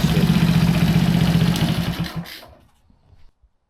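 A Honda C200 motorcycle engine idles steadily with a low, even thrum, then cuts out around two seconds in and falls to near silence with a couple of faint final knocks.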